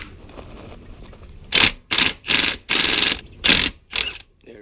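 A ratchet wrench loosens a front lower motor mount bolt on a 1996–2000 Honda Civic, making six close, rhythmic bursts of rapid clicking with short pauses between strokes, after a stretch of low background noise.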